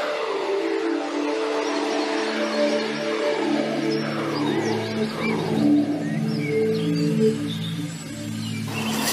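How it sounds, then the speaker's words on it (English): Tigers in an animated magical event roar like lions, a loud, steady and continuous roaring that stays dense and unbroken across the whole stretch, with no talking. "the tigers could roar like a lion"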